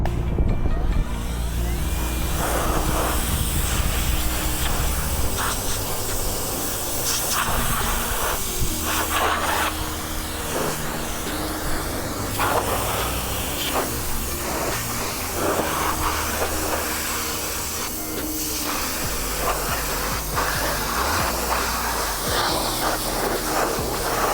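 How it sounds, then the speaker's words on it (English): A steady, loud hiss of a pressure washer spraying a car in a Walmart parking lot, with shifting splashes and a rumbling motor underneath throughout. "Let's see what it can get off here with the pressure washer."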